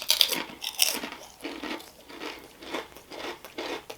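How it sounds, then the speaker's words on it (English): Crisp, close crunching of handmade ruffled potato chips from a New Jersey diner, a series of sharp bites followed by irregular chewing crackles, alone with no talk. "they just have an amazing crunch to them"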